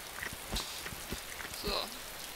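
Steady rain falling in the survival video game DayZ, a soft continuous hiss with scattered heavier drops and faint thumps, heard at low level.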